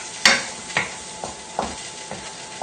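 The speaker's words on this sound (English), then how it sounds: "I can just about hear it sizzle now." A steady sizzle of shallots frying in a pan, with a few soft scraping stirs at irregular intervals.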